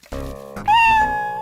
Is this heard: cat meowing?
yes